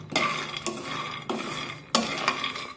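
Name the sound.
stirring peanuts roasting in pan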